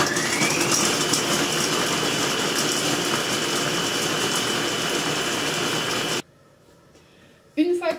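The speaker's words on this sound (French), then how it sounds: "Une fois que le robot s'arrête, c'est que l'oignon a haché." A Compagnon XL food processor chops onion at speed 12, a loud steady motor whir with grinding for about six seconds, then stops abruptly, leaving near silence before a brief clatter at the end.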